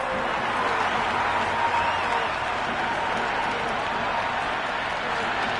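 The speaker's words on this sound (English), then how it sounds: "Will you listen to that crowd? They are loving this." A large stadium crowd in a cricket video game roars continuously, a dense wash of cheering and clapping that stays loud and even throughout.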